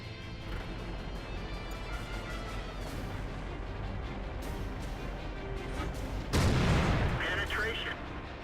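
Tank cannon fire in a World of Tanks battle replay: a dense rumble of engine and distant gunfire, then one loud close blast with a crashing impact. Commentary plays throughout.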